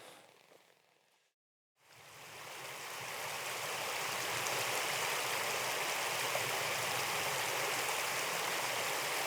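Stream of water rushing past in Norway near Geiranger and Trollstigen, a steady broadband roar that swells in after a brief silence and holds loud and even, with no voices.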